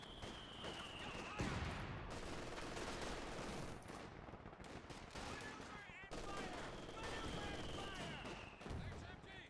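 Enemy mortar fire in a World War-era multiplayer strategy battle game booms through dense continuous battlefield noise, with repeated heavy thumps and gunfire layered under a constant din.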